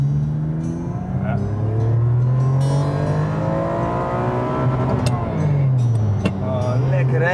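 Ferrari 550 Maranello engine running in sport mode, a steady loud drone that rises and falls in pitch as it revs, heard from inside the car with people talking over it.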